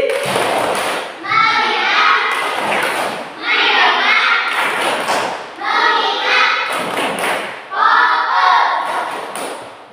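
In a classroom, a group of children performs the concentration clap routine, chanting together between loud rhythmic bursts of claps and thumps that repeat in short phrases.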